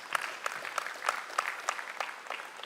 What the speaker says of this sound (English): And I think we should clap for ourselves as publishers.